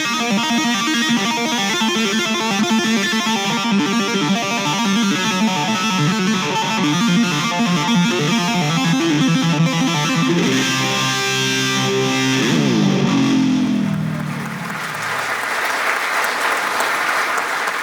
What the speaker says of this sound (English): this amp has like a little bit of reverb on it, like a spring reverb